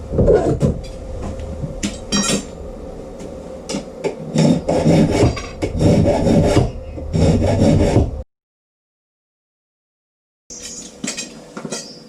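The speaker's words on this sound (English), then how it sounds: "I score the ends just to help the adhesion for the epoxy" Golf club shaft ends being scored and roughed up by hand before epoxy goes on, close-up abrasive rasping and scraping strokes in irregular bursts for about eight seconds, then a gap of silence and a final short burst of scraping.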